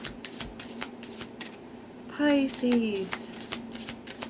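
Tarot cards being shuffled by hand, a dense riffling burst lasting about a second in the middle, close, while a person speaks softly around it.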